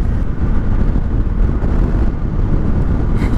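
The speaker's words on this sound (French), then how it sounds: "Il y a un vent de taré, il vient dans tous les sens." Strong wind gusting from all directions buffets the microphone while riding a Yamaha Ténéré 700 motorcycle in town, a steady, loud low roar that continues for the whole stretch, with no talking.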